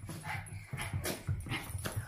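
A white Pomeranian makes a string of short, soft whimpers and snuffles in quick succession close by, with faint tapping and rustling behind it.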